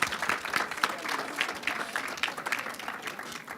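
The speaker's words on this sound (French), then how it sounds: "Je crois qu'on peut vous applaudir." An audience applauds two guests on a French science talk show, a sustained, fairly loud patter of many hands clapping at an even density throughout, with no speech on top.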